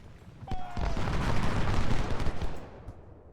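Musket volleys from Civil War skirmishers in a battle game crackle as a dense, rolling fusillade, sharp shots layered over a sustained rumble for about three seconds.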